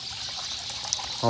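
Water pours and trickles steadily at an orchard farm, a continuous splashing flow that swells louder near the end, with no talk over it.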